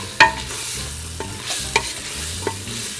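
Vegetables for a rabbit gumbo sizzle in a pot while a spoon stirs them, giving a loud knock at the start and softer scrapes over a steady frying hiss.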